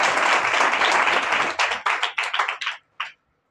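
A congregation claps during a church service, with dense applause at first that thins into a few scattered, separate claps and then stops, close and clear.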